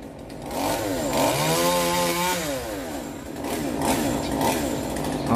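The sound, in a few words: chainsaw cutting a bodhi tree branch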